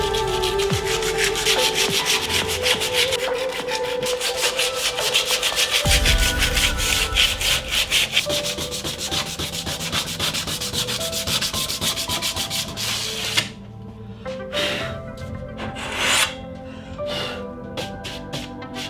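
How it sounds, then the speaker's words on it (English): Coarse sandpaper scratches rapidly and rhythmically across the plastic of a street sign, a close, loud, continuous rasping that stops near the end, leaving a few short separate strokes. "Now I'm going to use this super coarse sandpaper to scratch up the plastic on this street sign"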